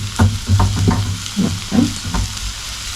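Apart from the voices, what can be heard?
onions cooking in a frying pan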